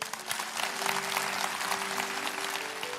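A church congregation at a Sunday worship service claps together, sustained dense applause from a crowd at moderate distance, even and continuous for the whole stretch.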